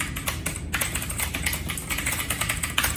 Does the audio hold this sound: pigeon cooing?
no